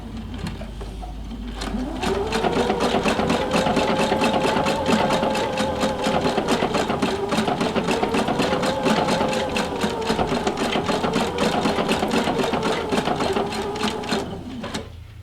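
A sewing machine fitted with a candlewicking foot stitches steadily for about twelve seconds, its rapid, even needle clatter starting and stopping cleanly, close and moderately loud with no talking.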